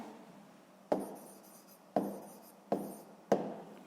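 Pen writing by hand on paper, working a sixth-grade maths exercise: steady soft scratching strokes with four sharper taps or stroke onsets spaced about a second apart, close and alone with no talk.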